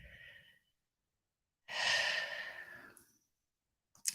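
Deep, slow breathing close up: a faint intake, a short silence, then one long audible exhale, and a quick breath at the very end.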